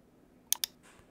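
Two quick, sharp mouse clicks close together, crisp and near, heard alone against a quiet background while working through computer software settings.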